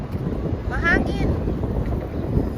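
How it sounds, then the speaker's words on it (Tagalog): Steady low rumbling wind buffets the microphone throughout in the Royal Square of Warsaw's Old Town, Poland, with a faint whistling tone briefly rising near the middle. "Mahangin."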